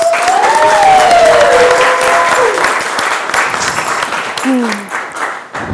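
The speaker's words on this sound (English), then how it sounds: "Can we please give Mr. Christopher a round of applause?" An audience applauds loudly at an ILEA Roadshow event production gathering in Atlanta, a dense wash of clapping and crowd noise that gradually tapers, with voices and some whistle-like tones over it.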